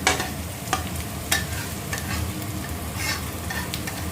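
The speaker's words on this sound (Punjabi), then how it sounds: "ਨੂਰ ਨੇ ਪਾਤੇ ਨੇ ਪਿਆਜ਼" Onions frying in a pan give a continuous close sizzle, broken by a few sharp clinks and scrapes as they are stirred, with no voices.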